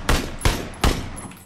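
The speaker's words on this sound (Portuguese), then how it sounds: "Deu um tiro no outro também." Three sharp gunshots in the battle-royale video game PUBG Battlegrounds, evenly spaced about a third of a second apart, each a loud close crack with a short decaying tail.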